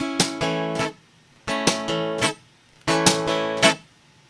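An acoustic guitar plays three short repeated groups of strums, each a downstroke, a muted snare-like slap, another downstroke and an upstroke, with clear pauses between them, close and fairly soft.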